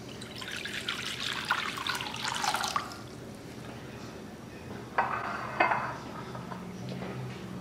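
Warm water poured into a mixing bowl in a home kitchen, a soft splashing trickle in two short bursts with quiet pauses between, fairly faint and close.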